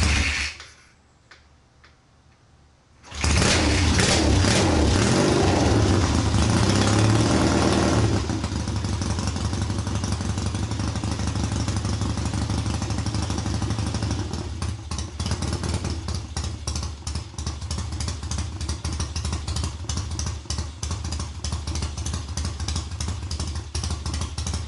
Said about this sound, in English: I'll throw a clip in right now of this bike firing up before I tore it apart